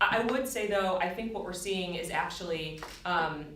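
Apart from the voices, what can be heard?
No everyday noise stands out behind the speech.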